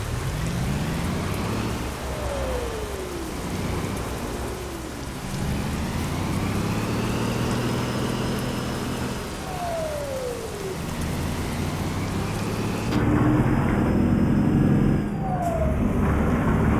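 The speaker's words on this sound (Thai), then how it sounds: "ฝนยังไม่หยุดเลยว่ะ" Steady rain pours down in Euro Truck Simulator 2 while an Isuzu Giga truck drives, the broad hiss of falling water mixed with the low engine drone and gear shifts.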